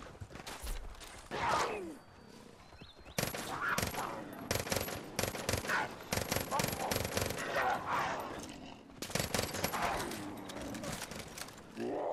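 Gunfire in Far Cry New Dawn, rapid clattering bursts of automatic shots in rough strings separated by brief pauses, close and fairly loud with game noise between.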